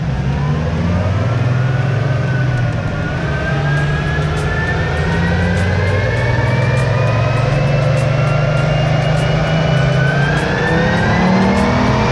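A Chevrolet Colorado truck's five-cylinder engine revs hard on a dyno, a loud sustained roar whose pitch climbs steadily through the run with no talk over it.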